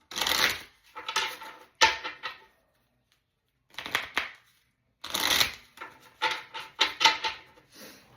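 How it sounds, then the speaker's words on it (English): Repeated riffle shuffles of a deck of cards, crisp bursts of rapid flicking with short pauses between, close up and with no talking. "I'm going to shuffle them twice."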